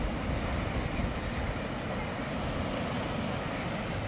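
Sea waves wash along the coast at Ilfracombe in North Devon, a steady, even surf with wind noise rumbling against the microphone throughout and no distinct breakers standing out.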